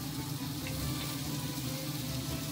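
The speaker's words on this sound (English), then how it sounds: "We're just going to saute them for about 5 minutes." Cut mushrooms sautéing in olive oil in a pan, a steady close sizzle and crackle running evenly throughout with no talking.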